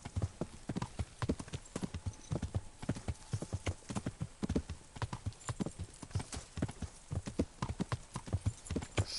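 Horse hooves clip-clopping steadily at a trot in the video game Kingdom Come Deliverance, a quick regular rhythm of sharp close hoofbeats that carries throughout, with faint game ambience behind it.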